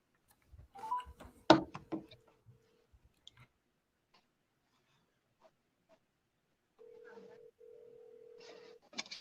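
A telephone call-back plays two stretches of steady ringback tone, with a few faint clicks and taps before the first tone and a quiet gap between them.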